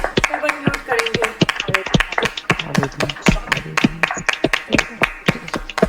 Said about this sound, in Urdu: زوردار بھرپور تالیوں سے سسٹر مشل کو خداوند کے کلام کو ویلکم کریں گے